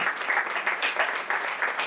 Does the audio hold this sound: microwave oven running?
no